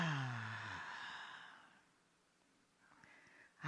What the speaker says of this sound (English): what I like everybody to do is just take a deep breath.